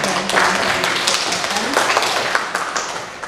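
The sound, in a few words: audience applause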